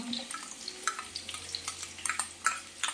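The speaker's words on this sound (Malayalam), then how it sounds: "ഈ വെളുത്തുള്ളിയിലെ ഇഞ്ചിയിലും പച്ചമുളകൊക്കെ ഒന്ന് മാറി വരട്ടെ" Garlic, ginger and green chilies fry in a pan for chicken chatti pathiri, giving a low sizzle broken by irregular clicks and taps of stirring against the pan, close up with no talking.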